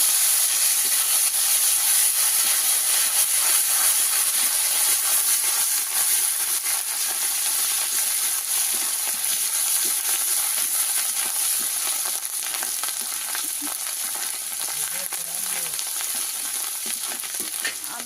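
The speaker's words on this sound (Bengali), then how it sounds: "ভালো করে ভাজা ভাজা হয়ে যাবে" Nigella seeds, turmeric powder and ginger paste sizzle steadily in hot oil for a fish curry, a continuous close frying hiss with faint stirring and no talk.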